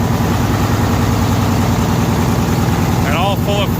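Detroit diesel engine idling close by, a loud, steady low rumble with a brief voice speaking over it near the end.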